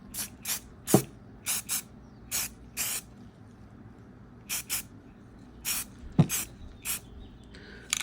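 A spray can hisses in a dozen short bursts of varying length while paint goes onto a repaired FMS F-35 RC model jet, with brief pauses and a couple of light knocks between passes.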